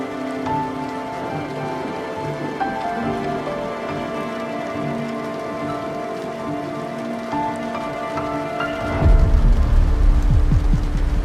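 Steady rain patters on a surface under a soft musical tone, then the downpour grows heavier and louder near the end.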